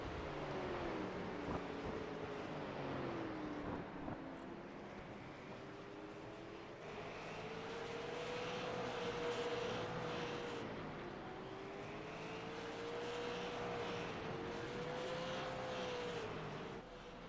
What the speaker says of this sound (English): there is the field getting some warm-up laps going around